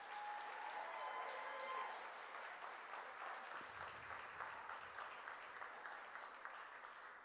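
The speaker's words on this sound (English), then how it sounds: "Give that brother another round of applause." Sustained audience applause fills a hall at an education summit on African American excellence, a steady wash of many hands clapping from start to finish at moderate loudness.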